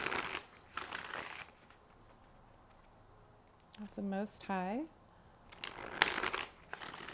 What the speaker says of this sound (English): All right, 2 more shuffles and then we'll lay these out